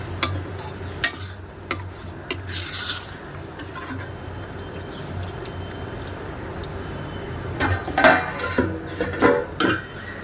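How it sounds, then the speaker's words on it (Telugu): Ridge gourd curry is cooked in a home kitchen, with steady scraping and stirring in a pot and intermittent metallic clinks of utensils, fairly close and without talk. "తర్వాత బీరకాయ కర్రీ ప్రిపేర్ చేస్తున్నా"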